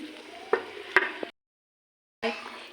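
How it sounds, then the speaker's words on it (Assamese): Water boils in a covered pot, giving a close, bubbling hiss with a few sharp pops before cutting to a brief silence and then resuming. "এতিয়া পানী খহিছে দেখিছে, উতলি আছে"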